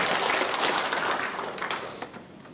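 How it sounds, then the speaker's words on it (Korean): Church congregation applauding together, a dense burst of clapping that fades away over a couple of seconds. "하나님 아버지 앞에 우리 감사의 박수 한번 올려드리겠습니다"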